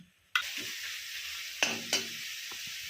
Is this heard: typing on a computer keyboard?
no